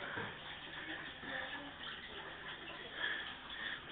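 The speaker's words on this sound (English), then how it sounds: "Running water as well." Water runs steadily from a tap inside an old pub building, a continuous splashing hiss that holds through the whole stretch at moderate level, with faint indistinct voices underneath.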